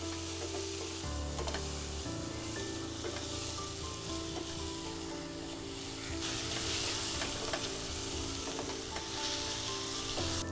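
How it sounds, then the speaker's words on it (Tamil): Chopped onions with salt sauté in a pan with a steady, close sizzle, and soft stirring scrapes and clicks are heard over it. The frying grows a little brighter and louder partway through. "இப்போ இது கொஞ்சம் வதங்கணும்."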